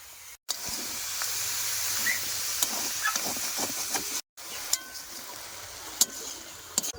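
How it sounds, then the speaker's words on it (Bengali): Prawns frying in a pan with salt and turmeric, a soft steady sizzle and hiss with occasional small pops and stirring clicks, broken by two brief silent gaps. "লবণ আর হলুদ দিয়ে ভেজে রাখছি"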